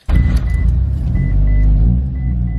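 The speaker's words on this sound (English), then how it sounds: "So let's start up the EVO 8." A Mitsubishi Evo 8 cold starts with a sudden crank and catch, then settles into a loud, close, rumbling idle that swells briefly before steadying.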